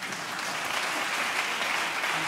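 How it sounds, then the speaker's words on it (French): Brief, dense audience applause at a chamber orchestra and choir concert, a steady wash of clapping throughout. "On les applaudit, bien entendu."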